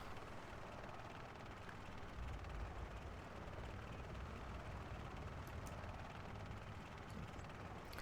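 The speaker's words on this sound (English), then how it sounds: "I love the chopper. Sometimes the noise can get a" A helicopter in World of Warcraft: Wrath of the Lich King Classic keeps up a steady engine and rotor drone, thick and continuous at a constant level, with a few faint metallic clicks near the end and no talk.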